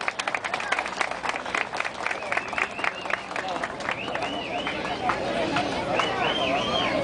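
A crowd at a police community sports event in San Luis applauds to welcome Luis Ramón Pérez: broad, sustained clapping runs throughout, while a warbling melodic tone rises over it and voices sound beneath.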